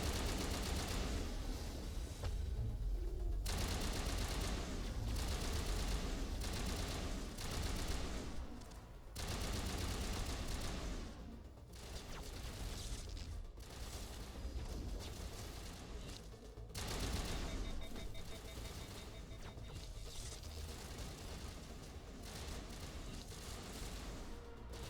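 Gunfire crackles in Mass Effect, dense bursts of rapid shots and booms in loud clustered volleys separated by brief lulls, continuing across the whole stretch with no talking.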